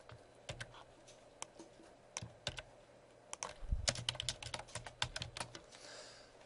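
Keys clatter in uneven bursts of typing on a computer keyboard while code is entered, close and crisp, with faster flurries in the second half and no talk.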